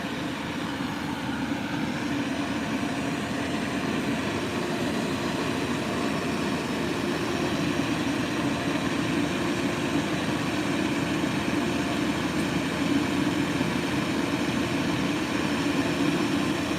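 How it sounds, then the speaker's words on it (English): A fire engine runs loud and close at a car accident scene, its steady low engine rumble and broadband roar holding constant without break throughout. "I don't understand the purpose of this fire engine here being so loud."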